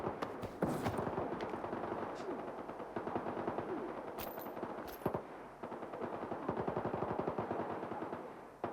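Rapid machine-gun bursts and single gunshots crack repeatedly in the video game Stalker 2, loud and close, with short pauses between volleys.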